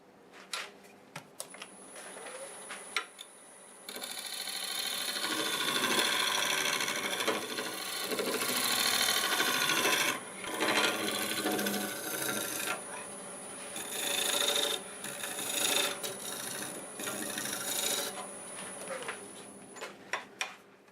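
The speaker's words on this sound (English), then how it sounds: "I'm going to use the negative rake scraper and clean that up a little bit." A negative rake scraper smooths boiled and bent cherry wood spinning on a lathe, giving a steady close rasping scrape with a faint high whine behind it, rising and easing in short passes and without talk.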